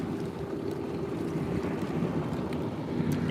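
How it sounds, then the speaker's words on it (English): A passing motorboat on open water during an evening fishing outing, heard as a steady low engine drone with wind buffeting the microphone and lapping waves, holding fairly constant throughout. "Like a boat like this. You guys can probably hear it."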